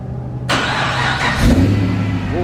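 A Holden VE Commodore ute on a race track fires up with a sudden starter crank and catch, then settles into a close, loud, rumbling idle with a slight rev.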